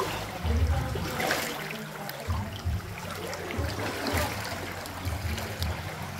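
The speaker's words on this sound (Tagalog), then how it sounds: "Kasi malakas pa yung agos." A strong water current rushing through Tayangban Cave in Siargao: a continuous loud gurgling churn with low rumbling surges, close and enveloping, with no speech.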